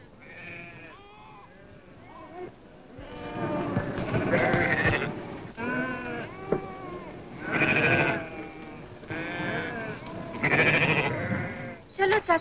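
Goats bleat repeatedly in wavering, overlapping cries, loud and close, with voices talking among them in a scene from a 1962 Hindi film.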